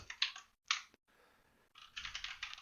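Typing on a new computer keyboard, with bursts of quick key clicks followed by a short pause and then a steadier run of keystrokes, close and clear with no talking.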